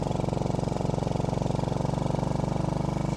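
A motorcycle engine runs along a trail with a rapid, even thumping pulse, steady and close, holding a constant pace for the whole stretch without speech.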